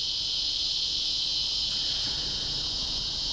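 A steady high-pitched insect buzz drones without pause, with a faint pulsing rhythm riding on top, loud and constant against quiet surroundings.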